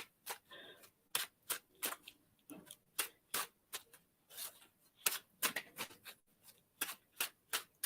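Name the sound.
shuffling cards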